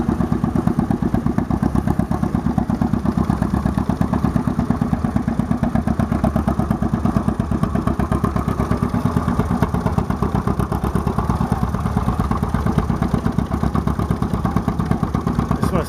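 An antique farm tractor engine runs at an agricultural-fair tractor-pull weigh-in, close by and loud, with a steady, rapid clattering idle thump that holds evenly throughout.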